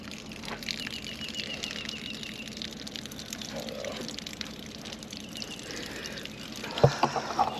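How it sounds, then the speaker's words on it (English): Water trickles steadily from an RV in a soft, continuous stream outdoors, ending with a brief louder clatter. "That's just water coming from."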